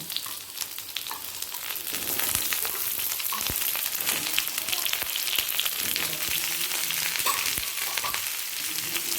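Cubed potatoes fry with pointed gourd in hot oil in a pan, a steady close sizzle with occasional crackles and scrapes of stirring, and no one speaks.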